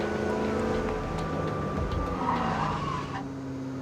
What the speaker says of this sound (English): It locks up an inside front wheel really easy